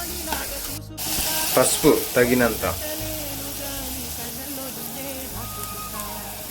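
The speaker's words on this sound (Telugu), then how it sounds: "ఇప్పుడు మనం ఉల్లిపాయ వేయించుకోవాలి. పచ్చిమిరపకాయలు వేసుకోవాలి." Onions and green chilies fry in a pan, a bright continuous sizzle with a burst of louder spattering near the start. Someone talks briefly over the sizzle.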